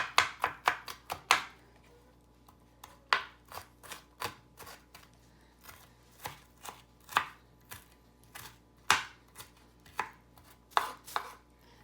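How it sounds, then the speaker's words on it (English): Knife chopping an onion on a cutting board for homemade chicken and dressing, a fast burst of sharp close knocks, a pause, then steady bunches of crisp chops, with no talk. "Okay? Alright, so all I do is just chop,"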